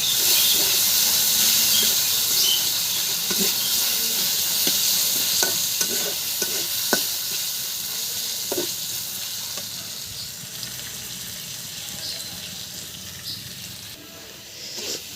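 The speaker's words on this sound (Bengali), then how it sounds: "দিয়ে রাখা এলাচ, দারচিনি, তেজপাতা দিয়ে দিলাম।" Cardamom, cinnamon and bay leaves sizzling in hot oil with fried onion and green chilli, a continuous close sizzle broken by repeated light scraping and stirring knocks, fading slightly toward the end.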